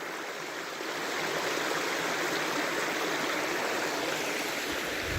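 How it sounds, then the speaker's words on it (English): A small stream on Lineham Falls Trail flows steadily with a continuous broadband rush of water. The flow is close, even and heard alone with no voices. "the pretty little flow of water"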